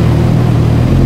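A 2015 Kawasaki Z1000 motorcycle idles in neutral just after starting, a loud, steady low engine rumble close by with no talk over it.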